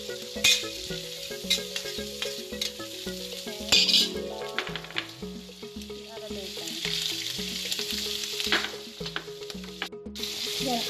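Mushrooms fry in a pan for carbonara and are stirred, giving a steady sizzle broken by utensil clinks and scrapes against the pan, with background music playing.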